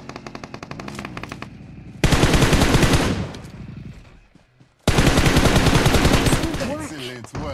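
Bursts of automatic gunfire in the PUBG Mobile battle royale game, two long loud volleys of rapid shots with a quieter stretch of shooting before them and a brief lull between, voices faintly underneath.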